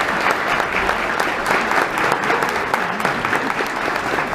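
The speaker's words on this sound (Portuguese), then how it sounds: "estendendo essa salva de palmas a todos" Steady, dense applause from an audience at a community panel event on tropeirismo and traditional Biriva dress, filling the whole stretch at an even loudness with no pauses.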